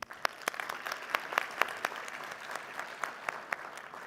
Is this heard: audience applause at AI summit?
yes